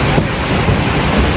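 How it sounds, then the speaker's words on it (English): Heavy rain pouring down during a thunderstorm, a loud, dense, continuous hiss and patter close by with a low rumble underneath, no voices. "the rain was literally slapping us in the face"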